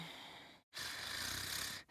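Voice actor imitating snoring for the Danganronpa V3 video game: a long raspy breath in, a brief silent pause, then a longer drawn-out snore, close and alone.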